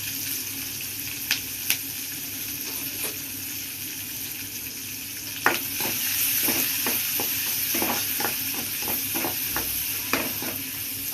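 Onions sizzling in a hot pan for chicken samosa filling, a steady fry hiss with a run of sharp stirring clicks and scrapes in the second half, close and moderately loud, no talk.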